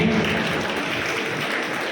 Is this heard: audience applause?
yes